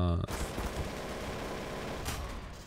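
Sustained automatic AK rifle fire in Garry's Mod Trouble in Terrorist Town, a dense continuous rattle of shots lasting nearly three seconds, loud and close, with talk mixed in.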